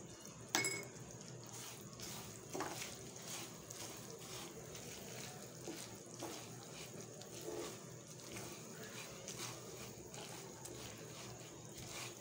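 A spoon faintly scrapes and knocks in a pan as ground peanuts and cardamom are mixed into a sesame ladoo mixture over low heat, quiet and intermittent, with some speech.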